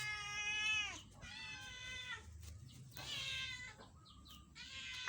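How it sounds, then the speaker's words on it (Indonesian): A jet-black cat meows repeatedly, giving four or five drawn-out, rising and falling cries with short pauses between them, close and clear against a quiet room. "Dasar kucing hitam pekat."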